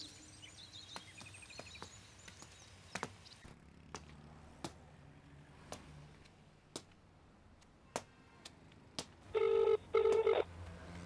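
A telephone rings in a Hindi-dubbed action film: an electronic ring and dial tones sound early on, then two loud bursts of ringing come near the end, with sharp taps and clicks scattered through an otherwise quiet scene.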